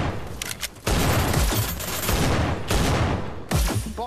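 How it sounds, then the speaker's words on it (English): Rapid gunfire in the VR shooter Hyper Dash during a control-point match, dense loud bursts of shots that run almost continuously, with sharp onsets and a heavy low rumble. "I'm shooting into the sniper!"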